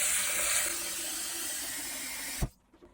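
Water runs steadily from a tap as rice is rinsed in hot water, a close, continuous rush that cuts off abruptly near the end, followed by a couple of faint knocks.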